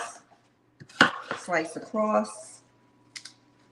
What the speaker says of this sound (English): once I slice a big old steering wheel out of the watermelon, I just put it on my cutting board, slice across